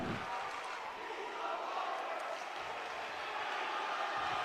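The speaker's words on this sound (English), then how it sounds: "The crowd is loving it." A crowd cheers and roars inside an arena during an indoor track and field conference meet, a steady, distant wash of voices that stays level for the whole stretch.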